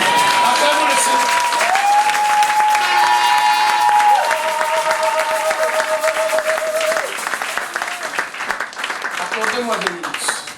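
A congregation applauds in a French-language church service, steady clapping spread across the room beneath sustained tones that sound like keyboard or singing, fairly loud throughout and easing slightly toward the end.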